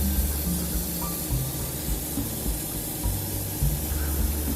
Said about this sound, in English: The compressor's kicked in,